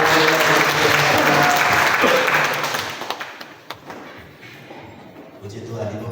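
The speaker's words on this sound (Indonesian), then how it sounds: "Kita berikan tepuk tangan lagi." A church congregation applauds loudly for about three seconds. The applause fades into scattered claps and taps, and a voice speaks near the end.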